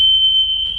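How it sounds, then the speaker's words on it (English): A bus alarm buzzer sounds a steady, piercing electronic tone continuously at close range, loud and unbroken throughout. "Alarms work."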